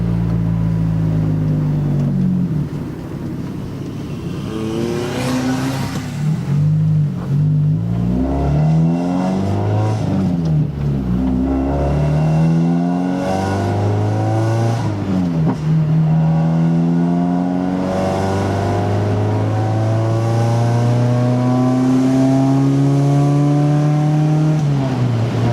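A cold 1996 Honda Accord engine fitted with a cold air intake idles and is revved repeatedly, its pitch rising and falling in long smooth sweeps, loud and close.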